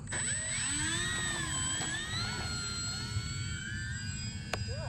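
An eFlite Mustang 1.2m RC plane takes off, its electric motor giving a rising and wavering whine over steady low wind rumble, with a brief sharp click near the end.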